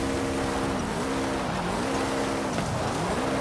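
A Koenigsegg in Forza Horizon 5 losing traction, engine droning loud and steady with wavering pitch as the revs rise and dip and tires scrabble for grip.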